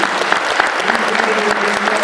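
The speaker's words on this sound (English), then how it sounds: "Big round of applause for these 4 amazing scouts right here" An audience at an Eagle Scout court of honor claps loudly for new Eagle Scouts, dense sustained applause with a faint voice beneath.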